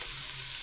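Onions frying in a pan for garlic buttered tiger prawns with mushroom, giving a short, steady close sizzle with a faint low hum beneath.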